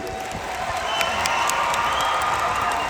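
A concert audience applauds and cheers at a Harmonious Kerala show, with steady clapping and scattered shouts swelling slightly midway and holding at a lively level.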